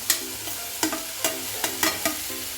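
Chopped onion, capsicum and cabbage are stir-fried in a pan, a soft sizzle broken by about eight sharp scraping stirs at an uneven rhythm, close and with no talking.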